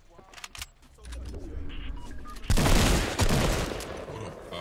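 AK rifle gunfire in the Fortnite video game, a burst of loud broadband shots hitting sharply midway and continuing in dense, rough bursts over game ambience, with no talk.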